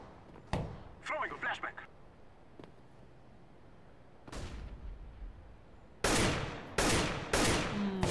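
Gunfire in the game CS:GO: a few sharp in-game shots at the start, then a dense cluster of loud rifle bursts near the end, with quieter clicks and movement sounds between them.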